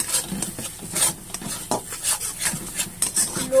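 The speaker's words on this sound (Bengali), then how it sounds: "লো ফ্লেমে ভালো করে নাড়াবো" A utensil stirs and scrapes ground kharkol leaf paste with prawn heads in a pan over a low flame, giving close, rhythmic strokes with metallic clinks.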